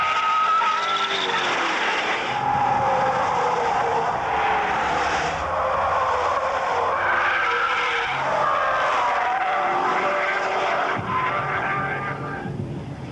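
An AMG-modified Mercedes C36 from 1996 is driven hard on a proving ground, its engine roaring loudly and tyres squealing and skidding through corners, close and continuous throughout.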